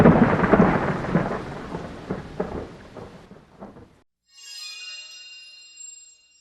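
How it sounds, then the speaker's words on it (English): A loud roll of thunder rumbles low and heavy, fading over several seconds, followed by a brighter patter of rain in a storm. "From high in the sky came a loud roll of thunder."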